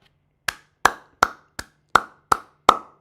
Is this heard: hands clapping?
yes